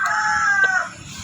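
A Shamo rooster crows once, a loud drawn-out call close by that trails off near the end, with faint background noise.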